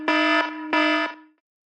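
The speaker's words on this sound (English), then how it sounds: "Tones like alarm or radar are generally louder and can help you hear your calls" iPhone alarm ringtone: two loud, sustained buzzing electronic tone bursts, each lasting about a third of a second, followed by a brief fading tail.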